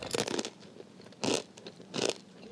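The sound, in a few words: biting and crunching ramen snack mix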